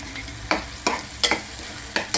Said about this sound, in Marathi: लसूण भाजल्यानंतर त्या ज्या मिरच्या ठेवल्या होत्या त्या मिरच्या पण टाकायच्या त्यामध्ये